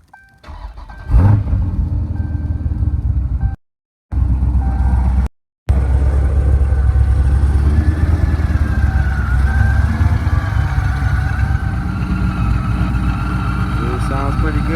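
A Dodge Charger Scat Pack fitted with a Whipple supercharger fires up with a sharp crank and catch, then settles into a loud, steady, rumbling idle that fills the rest of the stretch, broken only by two brief dropouts.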